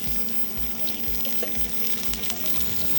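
Glazed salmon fillet searing in a hot skillet after being flipped and basted, a steady broadband sizzle with a low rhythmic pulsing underneath, close and continuous.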